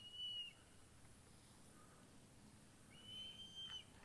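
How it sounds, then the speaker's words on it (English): Hawk calling along a bicycle trail in Ocala, Florida: two faint, high, thin whistled cries, one near the start and a longer one near the end, distant over quiet outdoor background. "but this sounds like a hawk."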